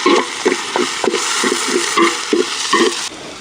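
Ginger garlic paste being stirred in a hot pan: a regular series of scraping strokes, about two per second, over a continuous sizzle, close and fairly loud, with no voices.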